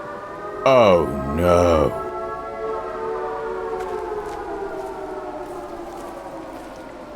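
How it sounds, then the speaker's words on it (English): A loud siren wails out in rising and falling bursts in an animated mountain adventure scene, then settles into a long steady drone fading under background noise while a voice briefly exclaims. "Suddenly, a siren blare."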